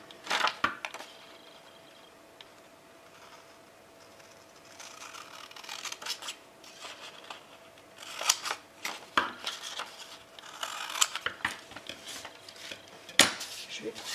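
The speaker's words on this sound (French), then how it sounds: "Alors je vais découper." Scissors snipping craft material for a steampunk leather album, quiet close cuts coming in scattered short clusters with a few small handling clatters between them.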